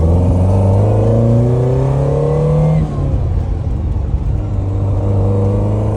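Car cruising along a highway, a steady engine drone and road rumble with a rising tone that shifts around three seconds, then continues evenly near and loud without talk.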